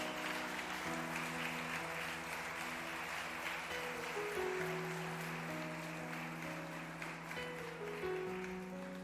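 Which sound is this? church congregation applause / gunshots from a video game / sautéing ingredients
church congregation applause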